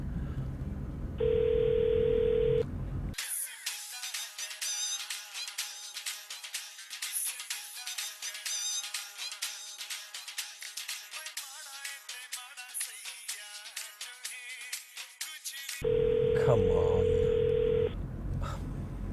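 A phone call goes unanswered: steady electronic tones open and close a long stretch of repeated ringing, with a brief muttered voice.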